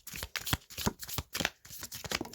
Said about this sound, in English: I've got another deck of these to shuffle